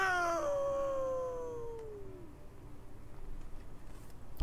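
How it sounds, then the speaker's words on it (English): A small gray cat in the video game Thronebreaker: The Witcher Tales gives a single drawn-out, falling meow, clear at first and then fading into low background ambience, followed by a brief thump. "Yeah, she's a little gray cat."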